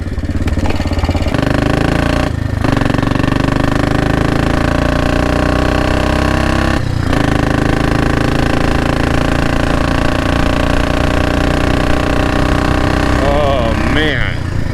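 A Royal Enfield Bullet 500 single-cylinder engine runs steadily and loudly throughout on a cold winter morning ride, with brief dips in the sound, and a voice talks over it.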